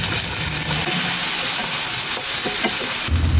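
Garlic, onion and tomato sauté in a pan for bitter gourd with egg, giving a loud, steady, hissing sizzle with a louder rush of frying near the end.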